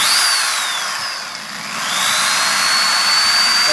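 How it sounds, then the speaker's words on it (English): A high-pitched power drill whines steadily, close and loud, boring out a chainsaw carburetor throat, dipping briefly in pitch and load midway before running at full speed again. "But I will drill the other one."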